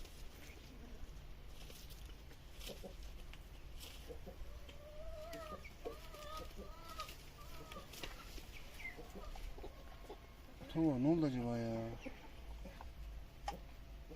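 Hens cluck softly and repeatedly in the background, then a rooster lets out a loud, close call near the end; a voice speaks briefly.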